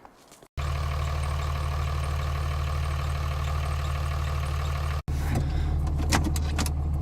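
A common rail diesel truck engine catches and settles into a steady, loud idle close by, a brief break midway, then continues running with some clicks and rattles.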